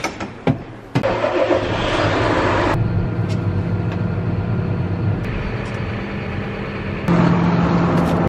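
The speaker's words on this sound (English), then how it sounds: "I wanna get that truck front and center here so that we have enough room to work around it" A semi-truck's diesel engine rumbles inside a heated shed as the truck is moved, with a few sharp clunks at the start, then a steady idle that shifts in pitch and level toward the end.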